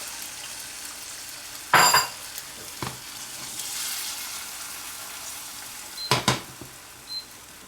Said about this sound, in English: And while that butter's burning, pour the egg in.